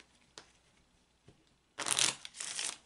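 Tarot cards being shuffled by hand, starting with a few soft isolated taps, then two quick riffling bursts that are close and crisp.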